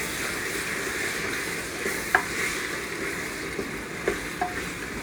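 Beef for a Kerala-style beef curry being stirred in a frying pan, with a steady sizzle and a few sharp scraping clicks of the spoon against the pan, close and alone with no talk.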